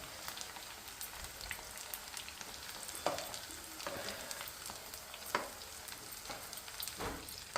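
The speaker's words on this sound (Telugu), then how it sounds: "ఈ కలర్ వచ్చినంత వరకు వేపుకొని మరీ డీప్ ఫ్రై చేయొద్దు" Zucchini pakodi sizzling as they deep-fry in hot oil, a steady crackling bubble with occasional sharper pops and stirring clinks, fairly close and unaccompanied by voices.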